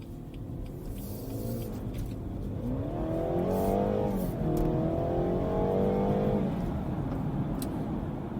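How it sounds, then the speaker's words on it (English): A BMW 430i Gran Coupe engine revs up hard through rising exhaust tones, shifting gear midway and climbing again, heard from inside the moving car. "really great exhaust note from this car, excellent acceleration"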